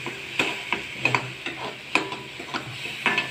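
Onion sautéing in a pan for a dry soybean curry, a soft sizzle under irregular scraping strokes of a spatula, close, with about a dozen distinct stirring knocks and no talking.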